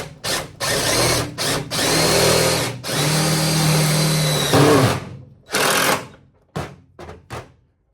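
Short bursts of a power drill whine near a 1972 VW Super Beetle while a clip is fastened onto a brake line, loud and close, starting and stopping several times with one longer run in the middle.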